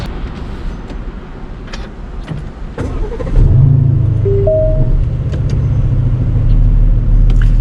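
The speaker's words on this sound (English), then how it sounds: "take you guys for a drive in this 2018 Aston Martin DB11" A 2018 Aston Martin DB11 with its V8 engine idles and then rumbles louder as the car pulls away and drives, a deep, steady engine drone heard from inside the cabin after a few clicks.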